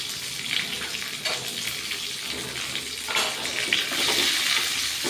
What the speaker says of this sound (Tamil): எல்லாம் நல்லா சேர்த்து வதக்கிட்டு வாசனை வந்ததும் நமக்கு ரெடியான ரவா பொங்கலில் சேர்த்து மிக்ஸ் பண்ண வேண்டியதான்